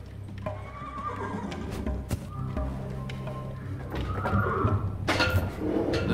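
Horses whinny and snort amid a busy stable in a video game, hooves clopping on a hard floor, with a louder cluster of neighs near the end, made nervous by nearby fighting.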